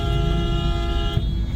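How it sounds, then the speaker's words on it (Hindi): Car horn honking amid Delhi street traffic during waterlogged flooding, a steady sustained horn tone over rumbling engine noise close by, with a brief louder bump near the end. "ये हमारे लिए हॉर्न मार रहा है क्या कुछ?"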